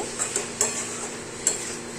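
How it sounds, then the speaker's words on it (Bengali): Spiced potatoes get stirred in an oily pan, a few soft scrapes and taps of a spoon over a low, steady sizzle, close but fairly quiet, with no one speaking. "আবার এটাকে একটুখানি নাড়াচাড়া দেব"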